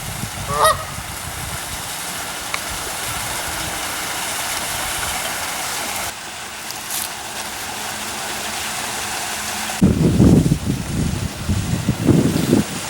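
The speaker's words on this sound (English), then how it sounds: "One of the local wild geese." A wild goose by a pond honks repeatedly, loud and close, in bursts toward the end over a steady outdoor rumble.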